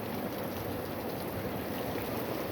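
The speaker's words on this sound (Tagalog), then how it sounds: "Malakas ang ulan ngayon." Steady, dense hiss of heavy rain pouring down on a nipa hut, continuous and fairly close, with no voices.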